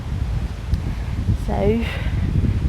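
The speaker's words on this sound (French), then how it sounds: "j'espère que tu n'entends pas trop le vent" Wind buffets a microphone outdoors, giving a steady low rumble and rustle through the whole stretch while a person keeps talking over it.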